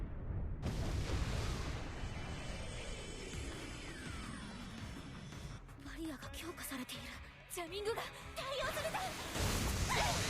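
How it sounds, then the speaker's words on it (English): Heavy cannon fire from the Macross in an anime movie: dense rumbling blasts and explosions fill the opening seconds, then fade into softer effects and scattered tones before loud booms swell again near the end. "Why are we using the Macross cannons?"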